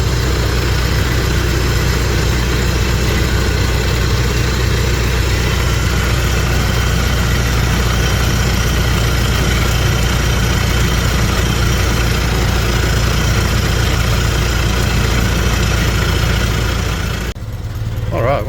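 The engine of a 1914 Ford Model T idles loud and near as a steady, rumbling drone with a constant mechanical buzz, and the sound changes briefly just before the end.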